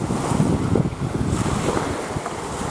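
Wind gusts across the shore of Lac Serre-Ponçon, buffeting the microphone with loud, rumbling blasts over a washing, surf-like roar of water, with no talking.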